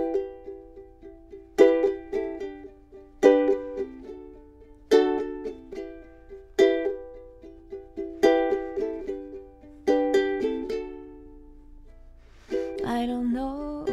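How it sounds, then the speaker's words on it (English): Ukulele strums the intro chords of a song: bright, separate strummed chords fall in a slow, regular rhythm, each ringing out and decaying, close and clear with no voice. "So I thought that I could just play the first half of the song to demonstrate for you"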